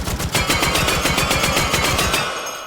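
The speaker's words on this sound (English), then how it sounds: "Interesting how quick the 3-round burst is versus the full auto." A 12 gauge shotgun firing slugs in fast full-auto and 3-round burst modes, a loud close run of about a dozen evenly spaced heavy blasts, then a short tail of silence.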